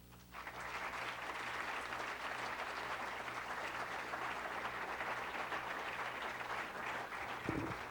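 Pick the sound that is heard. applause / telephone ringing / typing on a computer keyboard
applause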